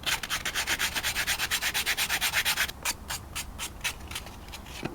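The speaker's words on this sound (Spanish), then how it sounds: "Le damos también forma con la lija." Sandpaper rubs back and forth on a recycled-tray model airplane, shaping its parts in a steady, close rhythm of quick strokes that slows into fewer, separate scrapes near the end.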